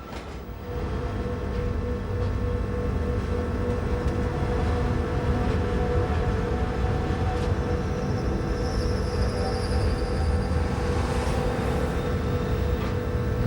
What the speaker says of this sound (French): Une locomotive de la Furka a été placée en tête du train